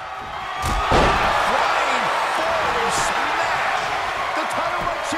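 Arena crowd roaring in the WWE 2K22 wrestling game, a loud continuous wash of cheering that swells early and holds steady, with a sharp slam-like hit near the start.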